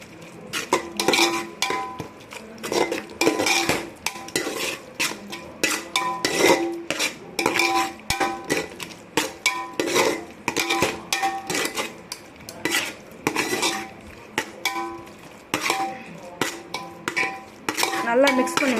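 A spoon scrapes and clinks against a pot while lemon juice is stirred into a kalan dum biryani mixture. The rapid, irregular metallic taps and scrapes are loud and close and run steadily throughout, with no talking.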